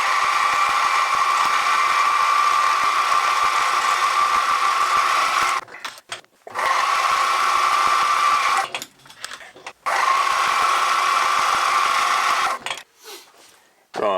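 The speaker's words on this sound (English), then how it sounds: "Let's edge find it and drill it." Small machine drill boring a hole in a big end bearing for a miniature petrol engine: a steady high whine runs in three long bursts separated by short pauses, close and loud, with no talk over it.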